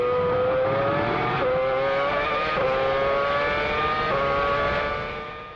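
A struggling Formula 1 car belonging to Lewis Hamilton in Brazil drones loudly and steadily with a harsh engine tone, pitch wavering in uneven steps across the whole stretch before easing off at the end.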